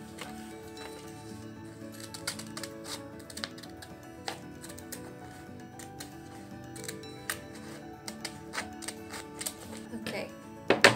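Scissors cut craft material for a hedgehog craft, making a steady run of small, close snips and ticks under a quiet background, with a busier cluster of cuts near the end.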